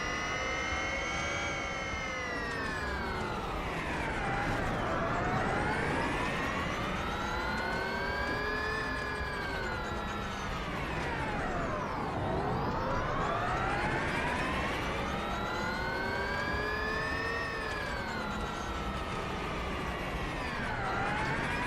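Formula E race cars in Real Racing 3 whine past with a high electric drivetrain tone that rises and falls in repeated sweeping arcs as the cars accelerate and slow, a steady loud layer with no talk.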